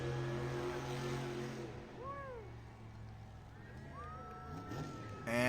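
A monster truck's engine rumbles at an arena event at Monster Jam Jacksonville 2024 after spinning a donut, then the steady drone cuts out and dies, leaving crowd and arena noise with faint whistling tones.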